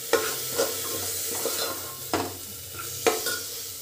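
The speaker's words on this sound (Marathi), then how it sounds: "या ठिकाणी थोडीशी कोथिंबीर मी ॲड करते. छानपैकी फ्राय करून घ्यायचे." Pavta beans frying in a pan with masala and coriander, a steady low sizzle under repeated stirring scrapes and knocks of a spoon, close and fairly quiet with no voices.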